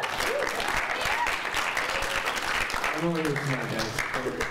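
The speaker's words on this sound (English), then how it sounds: "we should give a round of applause for Ali for running a very efficient meeting" Round of applause in a meeting room, with steady clapping throughout at moderate loudness and voices talking and calling out over it toward the end.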